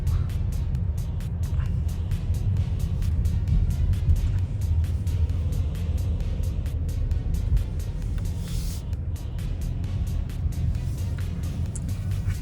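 A BMW X1 rolls along with a steady low engine and road rumble heard from inside the cabin, a continuous drone with faint tire hiss and occasional soft clicks, no one speaking.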